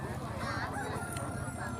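At a Tủa Chùa market selling poultry before Tet, a rooster crows amid clucking chickens, fairly faint and mixed with background voices.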